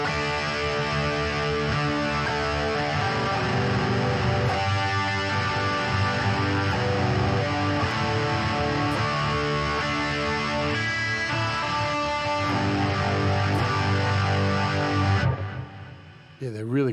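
Crunchy, chorus-laden electric guitar through the Nembrini JMP Pro amp simulator app on iOS, strummed chords and picked notes ringing steadily at close range for about fifteen seconds before fading out.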